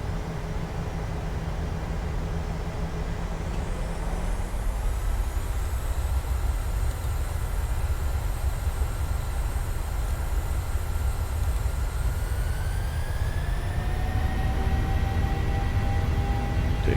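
Piper PA-24 Comanche engine at takeoff power, a loud steady drone under broadband wind and rumble, with the engine tone rising in pitch as power builds.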